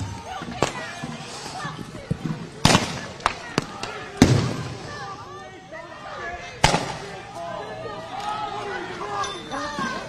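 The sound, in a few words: flashbangs and tear gas rounds fired by agents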